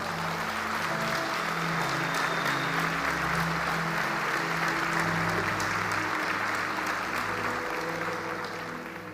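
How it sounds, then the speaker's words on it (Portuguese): Congregation applauding at a church service, a broad, sustained wash of clapping that runs steadily for several seconds and tapers at the end, with a faint tonal background and no speech. "Dê um aplauso a ele, não é possível."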